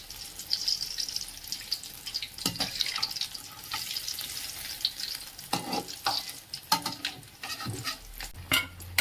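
Spinach egg bondas fry in hot oil with a close, steady sizzle, punctuated by irregular clinks and scrapes as they are turned.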